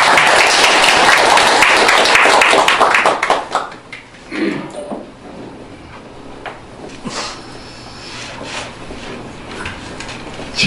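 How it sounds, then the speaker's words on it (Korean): Audience at a Korean Patriotic Party leadership meeting claps loudly for about three seconds, then the applause fades into scattered claps, shuffling and faint room noise. "박수 쳐드려야 돼요"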